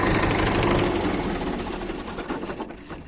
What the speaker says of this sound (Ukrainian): Зараз е, заглушу трактора